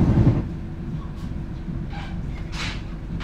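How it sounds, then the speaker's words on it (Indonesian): Inside the Gajayana extra executive passenger train, a steady low rumble of wheels on rails runs throughout at moderate speed, with brief hissing swells. "ini dia kecepatan kereta api Gajayana tambahan"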